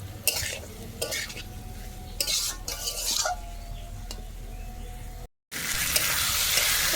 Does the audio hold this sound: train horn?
no